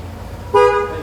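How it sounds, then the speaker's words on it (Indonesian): A single short, bright horn beep from a Honda ADV 150 scooter sounds up close, over a low idling hum. "Masih aman klakson ya? Klakson aman."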